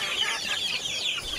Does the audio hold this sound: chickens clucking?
yes